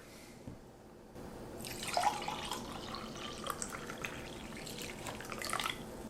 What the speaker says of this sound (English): let's see if you can hear the sound of coffee being poured into a cup